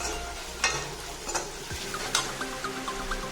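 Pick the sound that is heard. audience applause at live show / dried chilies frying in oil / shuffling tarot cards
dried chilies frying in oil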